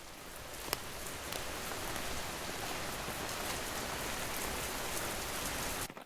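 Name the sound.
heavy rain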